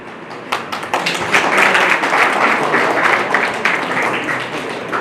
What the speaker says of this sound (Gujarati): તાળીઓથી વધાવ્યું